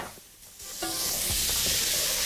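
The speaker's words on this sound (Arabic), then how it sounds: "هننزل بالبصل الاول" Onions frying in a pan with meat drippings for osso buco, sizzling steadily and growing louder after a soft start, with a few light stirring clatters.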